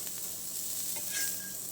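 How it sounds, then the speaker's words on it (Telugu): Anjali fish frying on a hot tawa gives off a soft, steady sizzle, close but quiet, with a faint brief crackle partway through. "చూడండి ఫ్రై అయిపోతూ ఉంది."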